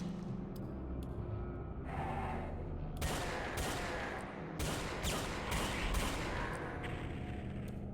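Rapid bursts of gunfire from the Brutal Doom 64 video game, fairly quiet, with repeated sharp shots and clustered volleys over a steady droning game background, no speech.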